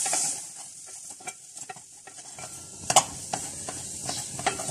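A spoon stirs spices for a potato samosa filling in a pan over low heat, making repeated scraping taps and light clinks over a soft sizzle, close and without voices.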